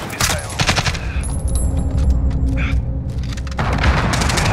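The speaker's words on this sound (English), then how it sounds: "Allied cruise missile." Cruise missile strike in Call of Duty Modern Warfare, heavy booming explosions and rumbling blasts mixed with bursts of automatic gunfire, loud and close, with a lull in the middle before the noise swells again.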